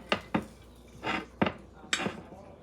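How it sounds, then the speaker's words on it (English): A fork stirring salad in a bowl, giving five or six light clinks and taps against the dish at an uneven pace, close and fairly quiet. "I'm going to grab a fork, mix this about a little bit"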